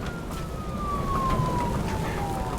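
A police siren in a cyberpunk video game wails steadily, its tone sliding slowly downward over a dense rumbling background of game noise, moderately loud and continuous.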